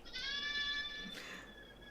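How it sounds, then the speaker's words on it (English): A goat gives one clear, wavering bleat up close, followed by a fainter trailing cry, over a quiet outdoor background. "Like I gotta hear these damn goats going"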